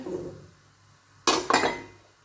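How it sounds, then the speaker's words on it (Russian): Fresh vegetables, cauliflower florets, potatoes, carrots and bell pepper, are tossed into a pot, giving two quick clattering thumps against metal after a quiet moment. "Закинули в кастрюлю"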